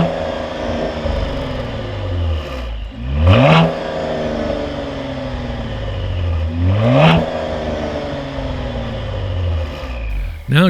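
Cadillac ATS-V exhaust with its valves open, revving twice in sharp rising-and-falling bursts over a steady engine drone and road noise, close and loud.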